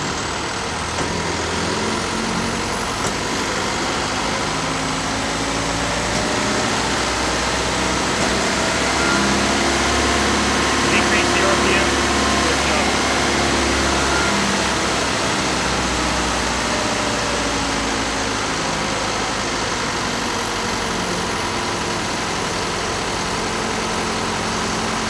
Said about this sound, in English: To start the auxiliary engine, you press the auxiliary engine start button until the indicator light comes on.